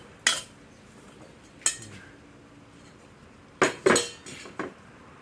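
A utensil stirs sugar into a dish, giving five sharp metallic clinks at uneven intervals against the bowl, fairly close and clear over a quiet background with no talking.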